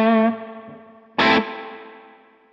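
An electric guitar through a Strymon Big Sky pedal on a spring reverb setting plays two struck chords, each ringing out into a long decaying springy tail.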